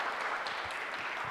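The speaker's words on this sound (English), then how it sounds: "And you can clap for them too." Applause from a school audience at a middle school science fair, a steady broadband patter of clapping that fills the whole short moment without a break.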